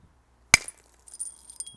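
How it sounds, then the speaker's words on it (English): A soft hammer strikes a flint piece during thinning in flintknapping, giving one sharp, bright click followed by a few faint scattered ticks of flakes and handling. "You might notice I'm actually using the side of the hammer occasionally."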